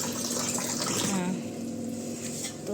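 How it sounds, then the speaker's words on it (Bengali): Water pouring down from a tap for washing vegetables, a steady splashing rush that runs throughout, with a voice talking faintly underneath. "এখান থেকে আড়ত থেকে দেখো জল পড়ছে"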